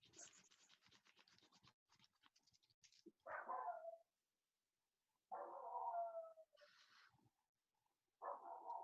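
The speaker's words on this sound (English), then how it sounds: "Is that your dog, Jenny?" A dog barks several times over a quiet room during an online meeting, giving short, slightly muffled bursts with gaps between them, mixed with faint scratching and tapping.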